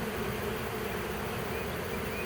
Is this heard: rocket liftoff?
no